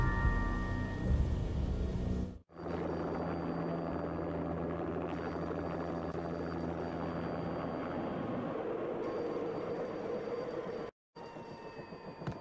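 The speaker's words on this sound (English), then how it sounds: "An armed helicopter just landed on the manor grounds." An armed helicopter lands on manor grounds in the Max Payne video game, a steady loud mechanical drone and rumble that runs almost without a break, cut by two sudden brief dropouts.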